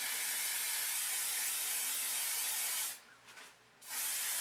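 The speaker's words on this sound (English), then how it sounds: "I'm going to use some Freeze It Mega Spray on the sides" Long continuous hiss of Freeze It Mega Spray aerosol hair spray on the sides of the hair, close and loud, pausing briefly for under a second before spraying again.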